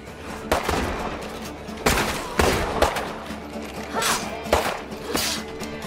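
Gunfire in the zombie survival video game State of Decay 2, with bursts of shots cracking out at irregular intervals over a busy background of game noise.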